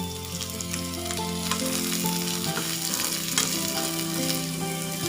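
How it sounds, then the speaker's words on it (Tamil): Sliced large onions sauté in oil in a pan, giving a continuous bright sizzle up close, with faint music playing beneath. "பெரிய வெங்காயம் போட்டுக்கலாம். கொஞ்சமாக வதங்கிறதுக்கு ஆயில் விட்டுக்கலாம்"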